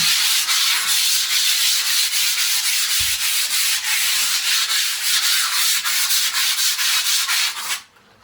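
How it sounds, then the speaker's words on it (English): Sandpaper rubs back and forth over interior walls, a continuous close, bright scratching hiss with a steady stroke rhythm that runs for several seconds before cutting off at the end. "Sandpaper. Rub the walls in."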